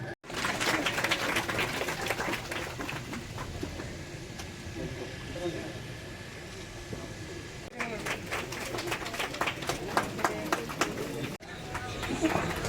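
An audience at a farewell party applauds with dense, continuous clapping, broken by two brief pauses, while voices murmur in the crowd.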